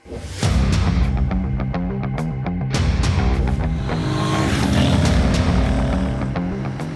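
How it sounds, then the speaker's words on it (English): A Royal Enfield Shotgun 650 motorcycle engine starts and idles with a steady, thumping exhaust note, revving up a few times with sharp pops. "The exhaust note is very similar to the Interceptor and the Conti 650"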